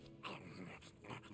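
A dog in a video game whimpers in short, soft whines, with a few brief yips. It sounds faint and fairly close, with no one talking.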